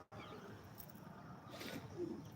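Pigeons coo softly nearby, a low, gentle burbling that swells toward the end over faint background noise.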